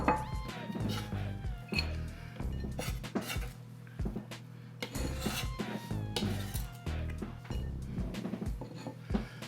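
Ceramic soup bowl handled on a kitchen counter while making celery soup, giving repeated close clinks, scrapes and rubbing knocks in irregular bursts, with some faint background sound between them.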